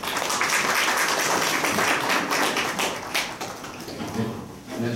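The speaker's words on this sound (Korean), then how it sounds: "박수로 청하겠습니다." Attendees at a medical ultrasound symposium welcome a lecturer with broad, even applause from many hands, loud and continuous before easing slightly near the close.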